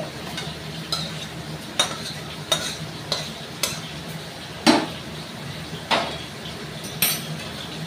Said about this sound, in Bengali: চিংড়ি মাছ দিয়ে এবারটা পাত্রের মধ্যে ঢেলে নিচ্ছি